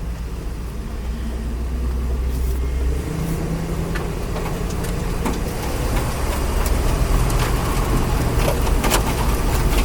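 A 1972 Camaro barn find's engine runs steadily with low rumble, changing pitch partway through as the transmission drops into gear, with small clunks and rattles along the way.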